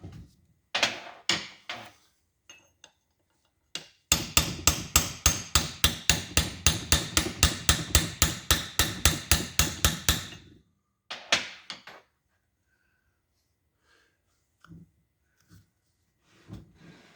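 Metal hammer blows ring out as engine valves are knocked out of a small-block Chevy cylinder head, first a few scattered strikes, then a long rapid run of evenly spaced knocks, followed by some final hits and quiet.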